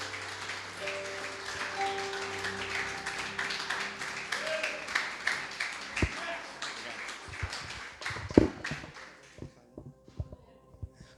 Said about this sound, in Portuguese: Dá uma linda salva de palmas para o Senhor Jesus.